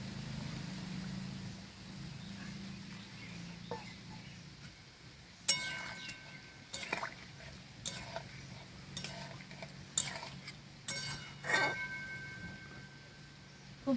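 Katla fish curry with yogurt and water stirred in a pan, with a spoon scraping and clinking in scattered strokes over a quiet background.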